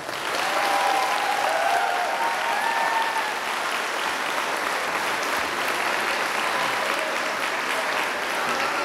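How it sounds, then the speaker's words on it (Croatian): Sustained applause from an audience at a children's dance school New Year performance, dense steady clapping filling the whole stretch at an even level, slightly stronger at the start. "dejte mi še en aplauz"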